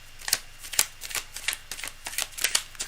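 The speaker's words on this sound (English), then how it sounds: "Just doing a quick shuffle to clear that." Tarot cards are shuffled quickly, giving a close run of crisp riffling snaps and soft patters in an uneven, rapid rhythm with no talking.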